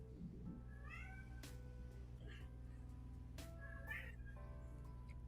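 A house cat meows a few times over a steady background of music, with tonal cries rising and falling at moderate loudness during a live stream.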